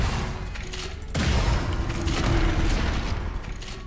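Barrels explode in the shooter video game Gunfire Reborn, a sudden heavy blast near the start that rolls into a dense, sustained booming rumble.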